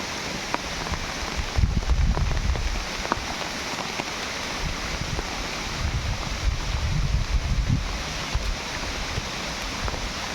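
Heavy rain pours down in a wooded spot while wind gusts buffet the microphone, a dense continuous hiss with low rumbling thumps.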